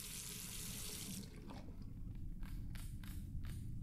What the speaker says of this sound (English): Then rinse the plate.